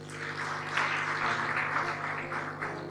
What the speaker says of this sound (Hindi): जोरदार तालियां खुदावंद।